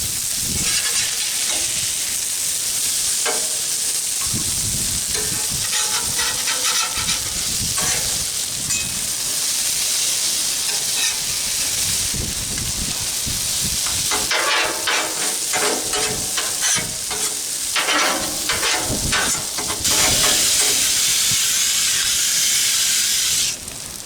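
Breakfast food sizzles loudly on a Blackstone flat-top griddle, a constant hiss and crackle with bursts of spatula scraping and stirring, close by and continuing for the whole stretch.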